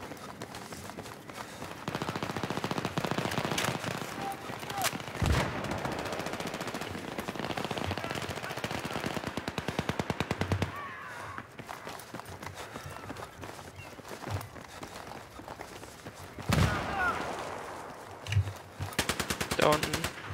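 PP-2000 submachine gun fire in the Battlefield 3 video game, rapid bursts of automatic shots crackling over constant battle noise, with occasional talk from a player.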